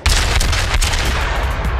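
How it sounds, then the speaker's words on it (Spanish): Warship gunfire in the naval video game World of Warships, the cruiser Königsberg in battle: a heavy booming salvo hits at once, followed by rumbling low-end thuds and crackling blasts that fill the short burst. "Me está disparando a mí."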